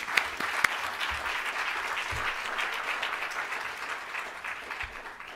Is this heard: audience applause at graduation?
yes